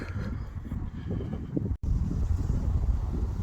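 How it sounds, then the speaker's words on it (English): Wind blowing hard outdoors in Scotland, a steady broadband rush and buffeting across the mic with a brief drop-out midway, then continuing loud. "But within that time the wind has just suddenly picked up."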